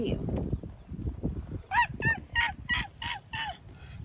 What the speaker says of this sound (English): There's some more of our birds.